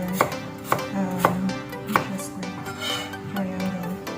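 Knife chopping potatoes into square cubes on a board, with a handful of sharp, evenly spaced thwacks and lighter taps in between, close and clear with no talking.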